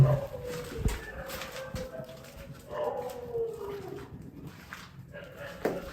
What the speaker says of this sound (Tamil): நாய் தான் நினைக்கிறேன்.